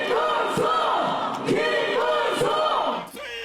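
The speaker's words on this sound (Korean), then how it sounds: "지지자들의 환호에 큰절로 화답한 김문수 후보" Supporters at a South Korean presidential campaign rally cheer and shout together, a loud crowd roar that surges in waves with rising voiced calls and brief bursts.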